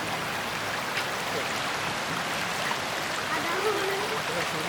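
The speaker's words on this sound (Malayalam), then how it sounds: "ഈ വെള്ളം ഒഴുകിയിട്ട് അങ്ങോട്ടാണ് പോകുന്നത്" A shallow, fast-flowing stream running toward Chulliyar Dam gives a steady, close rushing wash throughout, with no pauses in the flow.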